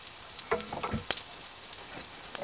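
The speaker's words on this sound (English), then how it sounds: "And you just have to fry them." Sausages frying in a pan at an outdoor winter camp, with soft crackling and sizzle along with a few brief clinks and stirring sounds, fairly quiet and without talk.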